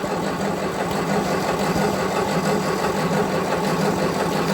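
An engine runs steadily with choke after starting, a rough even idle with a low rumble and faint knocking texture, close and fairly loud with no talking.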